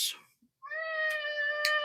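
A house cat meows close by: first a short high squeak, then after a brief pause one long, drawn-out, tonal meow that holds steady and rings out clearly for over a second.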